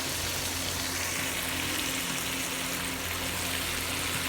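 Masala with chilies and tamarind cooks covered in a pan while okra curry is made, giving a constant, even sizzle and bubbling hiss with a low hum beneath and no talk.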